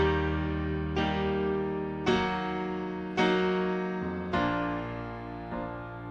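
Piano chords in a progression that moves from major triads to minor ones by lowering the third, five sustained chords struck about once a second, each ringing and decaying alone.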